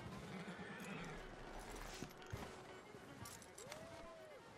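Horse hooves clip-clop along with a brief whinny over background sounds from the video game Red Dead Redemption 2, while a person talks quietly underneath.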